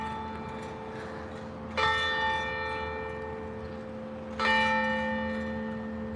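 Church bells ring out in downtown St. Paul, two distinct strikes a few seconds apart, each leaving a long shimmering resonant tone that slowly decays over steady background city noise.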